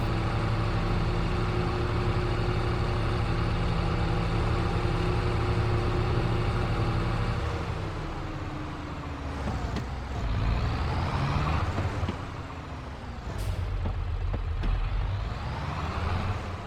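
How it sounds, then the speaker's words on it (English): An American tractor engine idles in Farming Simulator 22, a steady low droning rumble with tonal harmonics that dips and shifts partway through, with a brief hiss-like burst near the end. "We are driving an American tractor in America"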